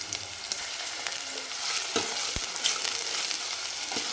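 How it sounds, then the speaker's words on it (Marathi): Chopped onion frying alone in a single spoonful of oil, a steady close crackling sizzle with occasional sharper pops and stirring scrapes throughout, no voices. "रश्यासाठी आपण एक चमचा तेल टाकलेला आहे आणि याच्यामध्ये आपण फक्त कांदा टाकलेला आहे"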